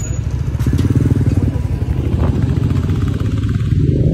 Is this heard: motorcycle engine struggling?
yes